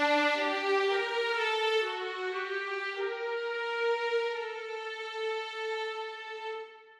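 Sustained orchestral strings from the Synchron-ized Special Edition sample library, with violins, violas, cellos and basses holding rich layered chords that shift slowly, close and full, fading at the end with no voices.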